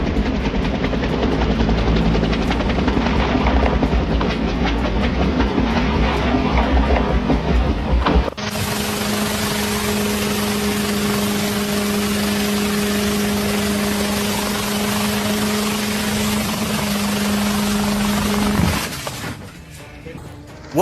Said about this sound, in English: a firefighting helicopter suffered an accident while operating near Cape Town